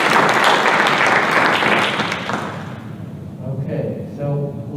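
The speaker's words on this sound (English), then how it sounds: "Let's give a round of applause." An audience at a chamber of commerce luncheon claps loudly for a couple of seconds, and the applause fades out. Faint voices follow.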